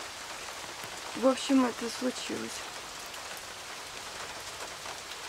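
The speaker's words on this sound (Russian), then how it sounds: "Ну, дождь. Вы промокнете?" Steady rain pours outdoors in a soft, even hiss. A voice speaks briefly over it near the start, and then the rainfall carries on alone.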